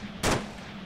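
A single loud, close gunshot in the military shooter Arma 3 cracks sharply and fades fast over a low ambient hum.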